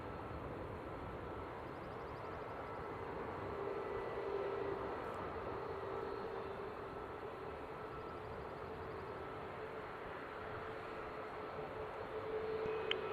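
An airliner takes off at Seattle airport, heard as a steady, broad engine roar that holds for the whole stretch with a slight swell. The sound is distant to moderate and continuous, with no talk.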